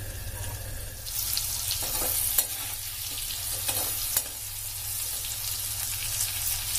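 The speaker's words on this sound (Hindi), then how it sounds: "सब्जी को अब हम चलाएंगे।" Potato and capsicum sabzi fries over a low flame while being stirred in the pan, a continuous close sizzle with a few clicks of the spoon against the metal.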